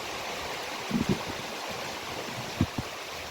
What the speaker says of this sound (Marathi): बघा पाणी कसलं आलंय वरून